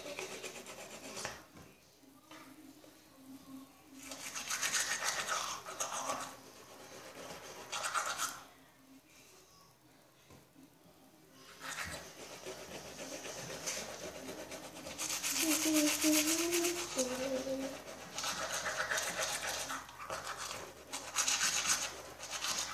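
Teeth brushed with a toothbrush, with bursts of wet scrubbing and rubbing separated by pauses, fairly close, with some faint voice sounds in between.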